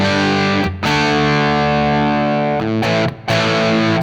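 An electric guitar's bridge pickup, tone knob rolled back, plays through a driven amp, with sustained distorted chords ringing out and two brief breaks between strums.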